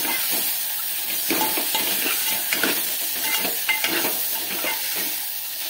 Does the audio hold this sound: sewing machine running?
no